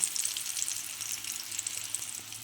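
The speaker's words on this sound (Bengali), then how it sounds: "ওই তেলের মধ্যেই আমি যেটা আগে বলেছিলাম ফোড়নটা দিতে হবে এখানে সাদা জিরে আর তেজপাতা" Cumin seeds and a bay leaf sizzle in hot oil, giving a steady, close crackle dotted with tiny pops and no voices.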